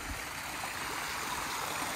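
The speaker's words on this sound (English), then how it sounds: "Here, beautiful little waterfall and lights." A small backyard garden waterfall at a waterfront home in Eagle, Idaho, a steady soft splash and trickle of running water, faint and continuous, with no other sounds.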